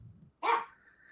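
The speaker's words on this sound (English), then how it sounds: "We got the dogs barking in the background." A dog gives a single sharp bark in the background of a quiet room, near and loud, standing alone.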